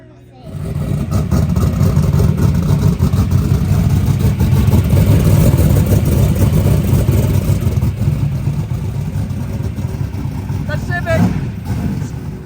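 A V8 turbo Honda race car on its first lap at a track roars with a loud, sustained engine drone close up, while people talk over it.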